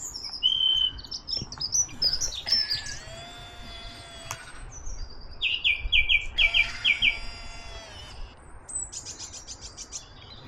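Songbirds sing in trees outdoors, with several different chirps, trills and whistled phrases overlapping and alternating across the stretch, fairly close and clear with no talking.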